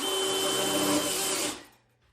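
A drill drives self-tapping screws into a whiskey barrel: one steady, close whirring burst lasting about a second and a half, then winding down to quiet.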